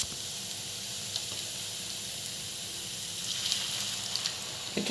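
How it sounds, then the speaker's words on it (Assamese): Dry ground spice masala frying in a pan as water is sprinkled over it for a mustard fish dish, giving a steady, fairly loud sizzling hiss that continues throughout. "পানী ছটিয়াই ভালকৈ শুকান মছলাখিনি, যিখিনি শুকান গুড়ি, সেইখিনি ভালকৈ ভাজি ল'ম"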